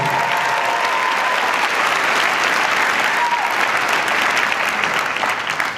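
Sustained, dense applause from a large crowd at a college commencement ceremony, steady and loud throughout with no pauses.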